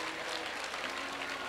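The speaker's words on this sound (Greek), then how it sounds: "ένα μεγάλο χειροκρότημα για την Άννα Βύση" Audience applause fills a Greek awards show, a dense, steady wash of many hands clapping continuously throughout without pause.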